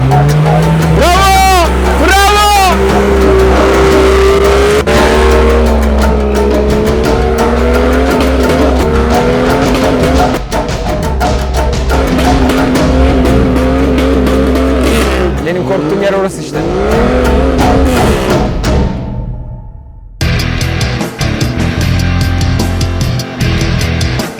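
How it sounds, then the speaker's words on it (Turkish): Off-road vehicle engine revving hard and driving over rough terrain, loud and continuous with rising and falling engine pitch and a brief cut near the end, with talk faintly underneath. "Yeşil araç geliyor. İddialı geliyor."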